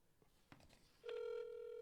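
A telephone ringing on an outgoing call: a few faint clicks, then a steady ring tone that starts near the midpoint and holds on to the end, moderately loud and with no talk over it.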